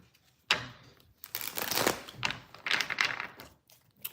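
A deck of tarot cards being shuffled by hand, with a sharp flick followed by several bursts of rapid riffling and papery rustling, close and fairly loud with short pauses between passes.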